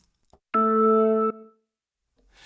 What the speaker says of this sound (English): you'll notice that it sounds a little bit more like a Hammond B3 organ.